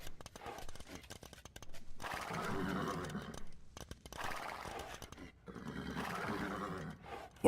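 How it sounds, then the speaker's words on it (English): Horses and camels in the Age of Empires video game snort and grunt in overlapping bursts, a rough, steady clamor of animal sounds with brief pauses between waves. "Horses snorting, camels snorting."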